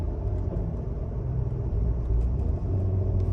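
A Ford Kuga 2.5 FHEV AWD hybrid coasting downhill off the throttle with a full battery in L mode, engine braking. It gives a steady, loud low rumble of engine and road noise inside the cabin.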